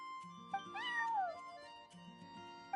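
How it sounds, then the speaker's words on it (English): A neighbor's cat in Genshin Impact gives a single drawn-out, falling meow near the middle, set against a soft, sustained musical backdrop with faint plucked notes. "I'm sorry, that's my neighbor's cat."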